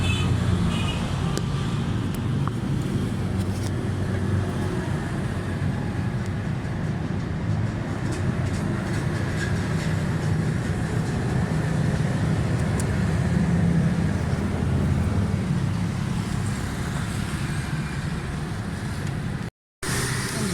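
A Suzuki Alto 1000cc car engine runs steadily at idle after a timing and distributor repair with new spark plugs, a continuous loud drone with no talk.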